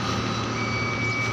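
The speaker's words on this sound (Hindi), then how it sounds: "ड्राइवर ने फैसला लिया है गाड़ी पीछे लेंगे" An Ashok Leyland truck reversing, its steady electronic reversing beep tone sounding continuously over a loud engine rumble and broadband road noise, close by.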